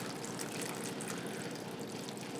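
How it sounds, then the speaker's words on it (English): Water poured steadily into a seed-starting tray of peat pellets, a continuous close splashing trickle lasting a couple of seconds with no talk. "So we are going to just pour some water"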